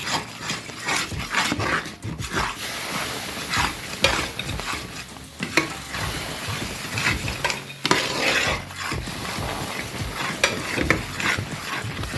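Mysore pak mixture is stirred in a pan while hot oil is added bit by bit, giving scraping, stirring strokes over a soft sizzle, irregular and close.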